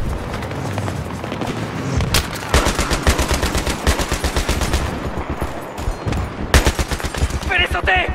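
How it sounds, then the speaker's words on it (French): A mounted machine gun in Battlefield 3 hammers out loud, rapid bursts of evenly spaced shots, pausing briefly before another heavy volley, with battle noise and brief chirps around it. "Mitrailleuse montée, à droite, à droite!"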